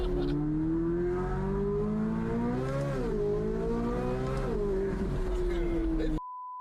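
Chevrolet Corvette Z06 engine pulling hard under acceleration, a loud rising drone that shifts up and climbs again, heard from inside the car with people talking over it, ending in a short beep.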